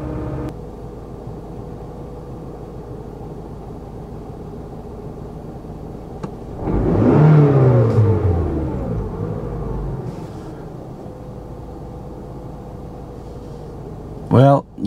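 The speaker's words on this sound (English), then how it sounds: "Now I'm going to step on the throttle." Car engine revving as the throttle is pressed, a single swell of rising engine rumble lasting a couple of seconds before settling back to a steady idle, heard alone over a constant background hum.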